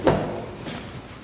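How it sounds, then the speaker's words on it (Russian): A door opens slowly during a fire-evacuation demonstration, starting with a knock or thud from the latch, then a low creaking rumble with a long fading tail. "прикрываясь дверным полотном, медленно открываете дверь"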